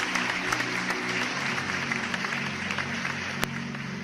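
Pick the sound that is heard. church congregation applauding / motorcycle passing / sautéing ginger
church congregation applauding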